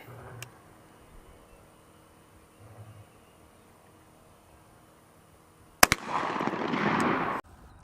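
A shotgun fires a Winchester Super X 1 1/8 ounce load of number 2 steel shot at 1,550 feet per second, one sharp loud blast outdoors with a brief noisy rumble trailing after it.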